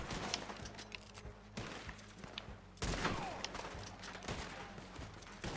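Gunfire in the Western video game Red Dead Redemption: sharp reports crack amid a busy din, with one heavy shot standing out midway, loud and continuous over game ambience.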